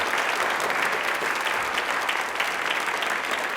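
Audience at a televised Rajasthan question-and-answer event gives sustained, dense applause, steady and fairly loud for a few seconds with no talking over it.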